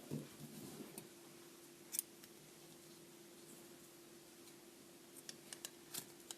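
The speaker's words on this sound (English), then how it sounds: "I'm going to close it up and cut my tails." Scissors snip the yarn tails of a pom-pom in a few faint, crisp cuts spread across a quiet room with a low steady hum.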